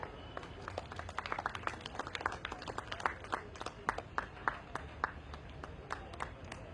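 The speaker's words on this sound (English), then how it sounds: "We now welcome Mr. Pranav Gupta on stage with a huge round of applause." A modest audience claps steadily at the Kolkata Literary Carnival panel, a dense patter of hand claps with some louder individual claps standing out, no voices over it.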